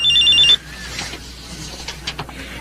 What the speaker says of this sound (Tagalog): May tumatawag sa'yo.